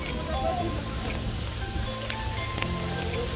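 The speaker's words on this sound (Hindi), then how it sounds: "वो बड़ी ठंडी बारिश है" Cold rain patters and hisses steadily on a surface on the Kamrunag trek in Himachal Pradesh, a dense continuous fall with a few sharper drops, fairly close.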